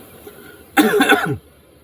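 A single short, harsh cough burst, close and fairly loud, standing alone against a quiet background.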